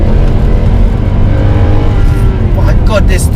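A Mercedes C63 AMG V8 in sport mode accelerating hard under full throttle, a loud continuous engine roar heard from inside the car, with brief higher whines near the end.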